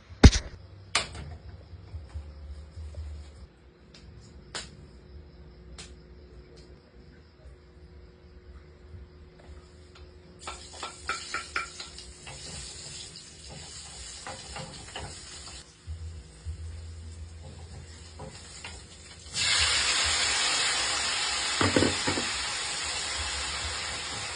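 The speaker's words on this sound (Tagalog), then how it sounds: "Magluto kog bulad karon nga tinamisan." Sweetened dried fish (bulad) frying in a pan, with a faint steady hiss and crackle at first, then from about 20 seconds a louder, dense sizzle, with some clinks and knocks scattered throughout.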